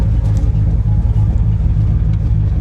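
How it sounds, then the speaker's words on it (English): A loud, steady truck engine on a 1976 turbocharged Ford F250 idles with no exhaust fitted, a deep, lumpy cam rumble and uneven throb, raw and unmuffled, running close by without any talk. "You can hear the cam way better with no exhaust"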